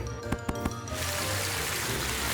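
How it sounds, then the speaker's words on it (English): Water from a cartoon fire truck sprays into a crocodile's mouth, a sudden loud rushing hiss that follows a few sharp clicks and then holds steady and full to the end. "First, Pea Pea sprays water into the crocodile's mouth"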